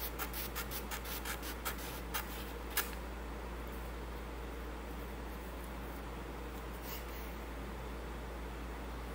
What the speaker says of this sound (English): Obviously, be careful with your scissors.